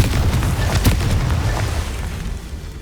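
A Confringo fire spell explodes in Hogwarts Legacy on PC, a loud deep boom with a rumbling roar that slowly fades, no voices over it.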